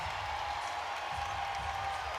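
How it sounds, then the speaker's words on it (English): A crowd of about 9,000 at a women's NCAA college basketball game cheers and applauds as a player leaves the court, a distant steady roar under faint talk and a thin whistle-like tone. "Listen to this crowd"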